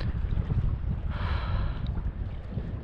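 Wind blows steadily at a wilderness lakeshore, buffeting the microphone with low rumbling gusts and a brief brighter rush in the middle.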